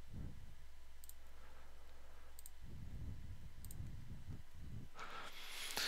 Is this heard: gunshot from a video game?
no